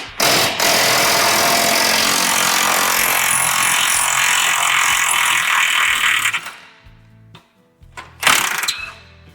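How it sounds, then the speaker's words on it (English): An impact wrench spins out 19 mm suspension bolts on a Honda Pilot or Acura MDX, a loud continuous hammering whir for about six seconds, then brief ratcheting bursts after a pause. "This is where a really good impact comes in handy."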